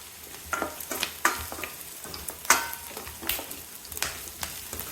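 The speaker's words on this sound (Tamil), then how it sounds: "நல்லா கலந்து விட்டுட்டு வெங்காயம் நல்லா கோல்டன் ப்ரௌன் வரட்டுங்க" Cashews and onions fry in oil in a pan, a soft sizzle broken by a string of scraping, clinking stirs of a spoon against the metal, moderately quiet and close.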